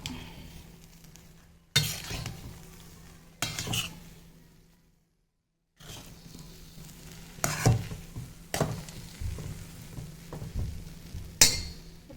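A spoon mixes upma in a pan on the stove in a few separate bursts of scraping and light metallic clinks, with quiet gaps and a faint sizzle between them, close by.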